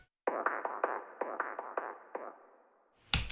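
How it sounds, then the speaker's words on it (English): A kick drum thump repeats through a filter ping-pong delay in a quick rhythmic series of echoing, filtered hits that fade away, followed by a sudden loud burst at the end. "it's just like it's basically a filter pong delay."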